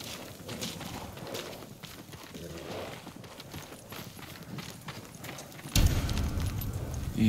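Rhythmic clip-clop of samurai horse hooves walking steadily on a hard surface in the video game Ghost of Tsushima, ending with a louder burst of noise.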